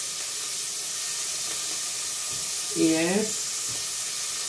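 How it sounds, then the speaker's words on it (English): Prawns sizzle in vegetable oil in a pan over very low heat, giving a steady close frying hiss throughout, with a brief word spoken partway. "So after frying this, I put it aside. I fry my prawn."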